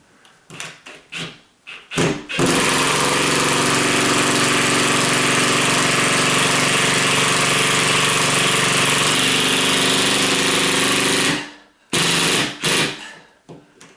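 A ratcheting power drill driving a screw during a ceiling fan install whirs loudly and continuously for about nine seconds, bracketed by a few short bursts of the motor before and after.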